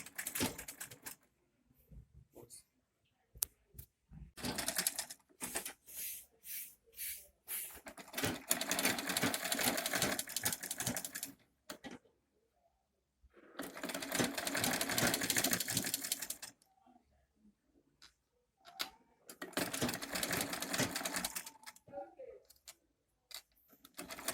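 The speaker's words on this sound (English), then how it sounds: "Then I will sew it through my zip line there." A sewing machine runs in several bursts of rapid stitching, separated by short pauses, while sewing a zipper onto a peplum top. It sounds close and fairly loud, with no talking.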